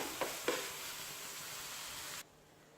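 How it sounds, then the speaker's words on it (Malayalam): Sweetened egg box filling sizzles in a pan as it is stirred dry, with two quick scraping knocks early on over a constant soft hiss. The sound cuts off abruptly after about two seconds. "ഫില്ലിങ്സ് ഒന്ന് ഡ്രൈ ആവുന്നത് വരെ ഇളക്കിയിട്ട് വാങ്ങാം."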